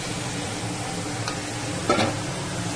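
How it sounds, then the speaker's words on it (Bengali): Prawns fry in a pan with a steady close hiss of oil, punctuated by a brief scrape or stir near the end, with no one speaking. "তোমরা বুঝতে পারছো এটা চিংড়ি মাছ ভাজা হচ্ছে"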